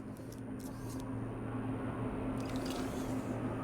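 Water refilling in the video game Beyond a Steel Sky gives a squishy, liquid filling sound over a steady low hum, with a few faint clicks.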